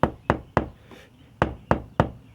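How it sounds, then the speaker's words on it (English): Knuckles rap hard on a car door fitted with sound insulation, giving two quick groups of three dull, damped knocks, close and solid, with a pause between the groups. "I'm not knocking very hard on the door to make it sound quieter"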